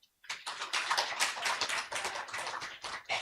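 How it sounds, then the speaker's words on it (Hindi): An audience breaks into clapping, brisk scattered claps rising after a brief silence and continuing evenly with small swells. "ताली तो बजाओगे?"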